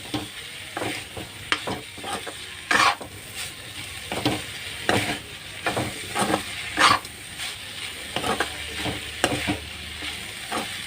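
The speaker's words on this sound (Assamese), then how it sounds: "এতিয়া এইখিনি অলপ দেৰি কাৰণে ভাজিম এনেকৈ।" Banana flower stirred and frying in a pan, a steady sizzle broken by repeated scraping stirs of a spatula at an irregular rhythm, close and fairly loud, with no talking.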